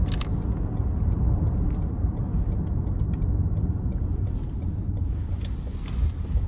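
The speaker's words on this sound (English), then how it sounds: "take this 2019 Lexus RX350L out on the road for a quick test drive" 2019 Lexus RX350L Premium with a 3.5 engine driving on the road, heard from inside the cabin as a steady low engine and road rumble with faint tire noise and occasional light clicks.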